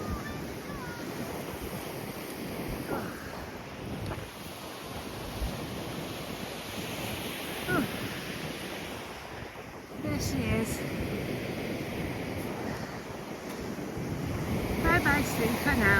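Sea waves wash onto a beach at Mablethorpe in a broad steady roar buffeted by gusting wind on the microphone, growing louder toward the end, while a person speaks briefly over it.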